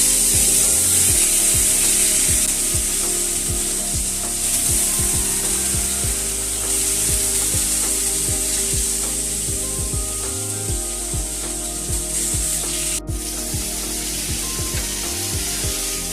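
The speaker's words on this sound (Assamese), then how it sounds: "এয়া চাওক তেল গৰম হৈ গল আৰু মই মাছ কেৰাহীত" Fish sizzles and spits in hot rice bran oil in a kadai, a loud, continuous hiss with scattered crackles and pops, close up and without talk.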